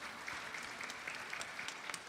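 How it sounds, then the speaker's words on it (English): Audience applause at a Vasant Navratri devotional gathering, a faint, steady patter of clapping from a small crowd lasting a couple of seconds. "Please give her a big round of applause"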